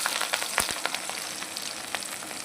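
Chopped onion and green chili sizzle steadily in hot oil, a dense crackling spatter with a few sharper pops and light stirring clicks, close and loud with no voices.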